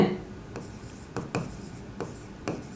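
Pen or marker writing on a board or paper during a math lesson: short scratchy strokes in scattered bursts over a quiet room, with several sharper taps where words are written out.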